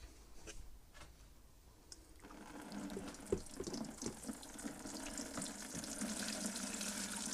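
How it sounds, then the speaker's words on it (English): Water pours and splashes steadily into a container of coir, a continuous rushing stream that begins after a quieter moment and keeps going. "let's add the water."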